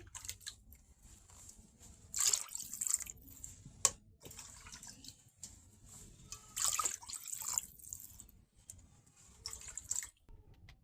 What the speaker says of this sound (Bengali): তাই একবার আমি বেশি করে পানি দিয়ে দিতেছি।